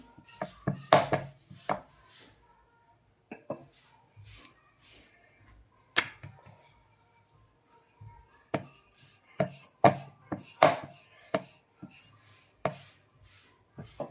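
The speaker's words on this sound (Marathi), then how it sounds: "बेसनचं पीठ असल्यामुळे थोडं चिकटतंय पोळपटाला, तर ह्याला असं थोडंसं वरून पीठ टाकून लाटून घ्यायचंय" Besan (gram flour) dough being rolled out with a rolling pin on a board, heard as scattered knocks and taps with quiet scraping and pauses between bursts, close by and fairly soft.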